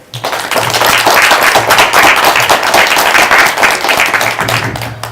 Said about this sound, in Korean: 여러분의 큰 박수로 모시겠습니다